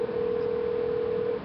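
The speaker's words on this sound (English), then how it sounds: "His phone's still ringing." A telephone line rings on an outgoing call, heard as one steady, unbroken electronic tone lasting over a second at moderate volume, with nothing else over it.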